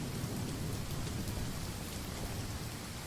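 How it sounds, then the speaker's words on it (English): Steady rain in the video game Open Sorcery, a dense, even hiss of falling drops with a low rumble beneath, continuous and unchanging with no voices. "It is raining."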